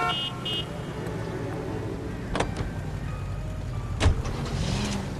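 In L.A. Noire, a car drives with a steady engine rumble and road noise, broken by a few brief knocks and thumps.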